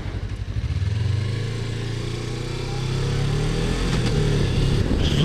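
A Suzuki V-Strom 250 motorcycle engine hums steadily up close, with its pitch gradually rising as the bike accelerates downhill and then settling into a continuous ride.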